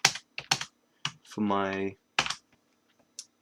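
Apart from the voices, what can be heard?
typing on a computer keyboard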